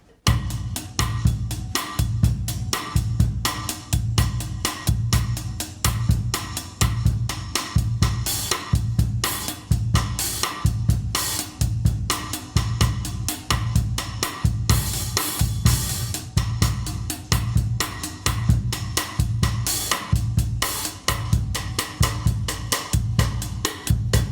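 A drum kit plays a steady, syncopated bossa nova groove, with a repeating low kick pattern and constant light cymbal and rim clicks throughout.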